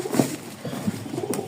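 Pigeons coo softly and close by, a few low rounded calls spaced through the moment with light rustling between them.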